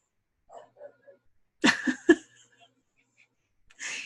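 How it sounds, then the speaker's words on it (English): A dog barks a few times nearby in short, sharp bursts, followed by a pause and then a brief breathy noise. "I have no idea what he's barking at."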